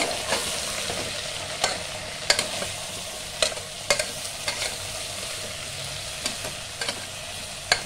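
Bitter gourd with turmeric and salt is stirred in a hot pan, a continuous gentle sizzle broken by repeated sharp scrapes and taps of a spatula, close by and without speech.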